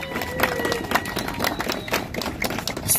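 A crowd claps loudly and steadily for the mother of alpinist Alina Pekova at a welcome event in Nalchik, the dense applause close and continuous with scattered sharper claps.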